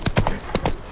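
The Witcher 3 horse Roach's hooves clip-clop in a quick run of four or five close, crisp thuds, with no talking.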